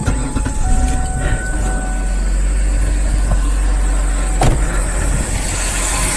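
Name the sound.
car engine idling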